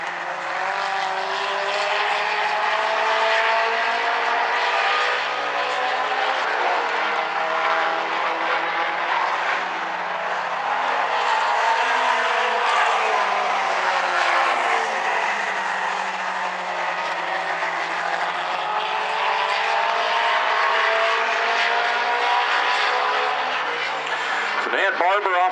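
Outlaw compact race cars race through the turns at South Sound Speedway with a continuous engine roar. The noise rises and falls as they pass, under steady commentary from an announcer through a loudspeaker.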